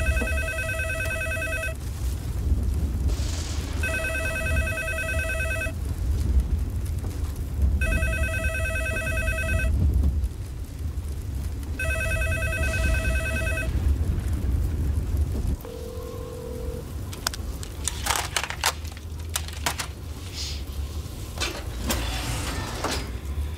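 A telephone rings unanswered in a movie scene during a storm: four evenly spaced electronic ring bursts over rumbling rain and thunder, then the ringing stops and scattered clicks and noises follow.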